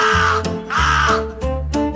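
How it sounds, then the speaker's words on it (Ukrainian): A black raven caws three times as a sound effect in a children's audio story, each call loud, harsh and close, evenly spaced. "Прилетів чорний ворон."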